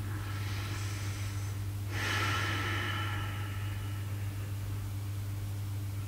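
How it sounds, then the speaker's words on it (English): A single deep breath during a yoga session for sciatica relief, one long airy inhale or exhale swelling in the middle, faint and close over a steady low hum, no talking. "One more deep breath in."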